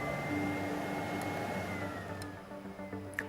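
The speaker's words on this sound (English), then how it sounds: "the fine dust filter will be cleaned automatically. You'll hear this happening." A Miele Blizzard bagless vacuum cleaner runs with a loud, steady motor hum. Its tone then drops as the fine dust filter begins self-cleaning, and faint clicks follow near the end.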